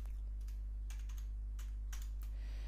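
A password is typed on a computer keyboard: a handful of quick, light key clicks in uneven bursts, fairly faint over a steady low electrical hum.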